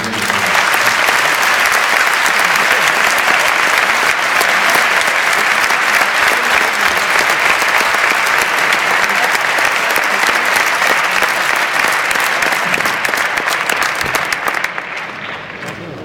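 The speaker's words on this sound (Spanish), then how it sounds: "Y ese aplauso es para vosotros" Sustained applause from a large audience at a Barcelona supporters' clubs world congress, loud and dense throughout before tapering off at the very end.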